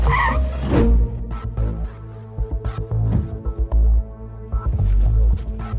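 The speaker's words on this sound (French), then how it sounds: "Je vais arrêter la voiture maintenant." A car brakes to a stop: a low engine rumble with repeated scraping, skidding bursts, fairly close and loud, with no talking.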